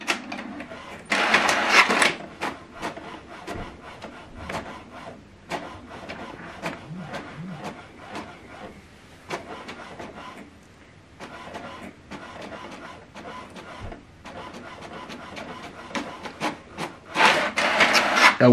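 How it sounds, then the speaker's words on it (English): An HP Deskjet printer prints a colour document, its carriage rattling and whirring in repeated passes, with louder bursts of paper feed near the start and end; close and steady, with no talk. "So this document now is printing."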